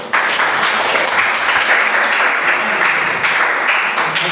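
Sustained applause from a seated audience at a school presentation, steady and fairly loud, clapping continuously without pause.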